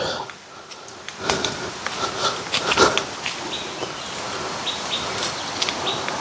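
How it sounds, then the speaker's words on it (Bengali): Several birds call in a quiet bamboo forest, their chirps and short tweets scattered at moderate distance over a soft background hiss, with occasional footsteps and rustling nearby. "চার পাঁচটা পাখি ডাকছে"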